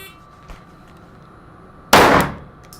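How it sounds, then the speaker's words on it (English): A single handgun shot fired at a target's center of mass during a concealed carry warm-up drill, one sharp loud crack with a brief decay after a quiet lead-in. "first shot to center of mass"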